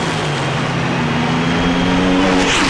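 A drag racing car at the 1988 NHRA Springnationals roaring down the strip, a loud continuous engine blare with rising harmonic tones, heard from trackside with no talk.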